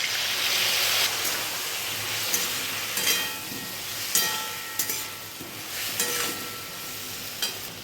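Cumin and Kashmiri chili powder frying in a pan hiss in a loud, rain-like sizzle as a little water is added, with scattered spatula clinks and scrapes over the continuous spitting.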